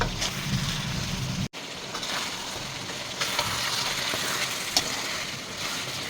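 Chicken frying in a pan with cut potatoes and whole garlic, a steady broadband sizzle and hiss running throughout at moderate level, with a short break partway and occasional stirring scrapes.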